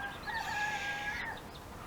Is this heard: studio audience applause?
no